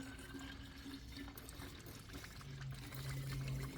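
Coolant poured into the cooling system of a 2012 Chrysler 300 with a 3.6L V6 during a water pump replacement, a steady close-up liquid pour and trickle running throughout, slightly louder toward the end.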